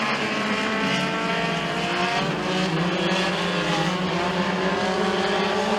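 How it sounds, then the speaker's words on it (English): Several race cars on a dirt track at McKean County Raceway battle for the lead in a heat race, engines roaring loud and continuous with shifting pitch as they pass, with no talk. "A 3-car fight for the race lead down the back straightaway."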